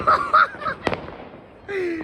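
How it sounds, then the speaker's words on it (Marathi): A single sharp firecracker burst cracks out amid a cricket match celebration, surrounded by excited, honking-like shouts and voices before and after it. "दिवाळी एवढे फटाके नाही फुटत भाई"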